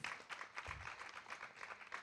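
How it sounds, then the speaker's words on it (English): Audience applause for a panel at a conference session on financing African innovation, a steady wash of many hands clapping across a large room, fairly faint and continuous for a couple of seconds. "A round of applause for our panel, please."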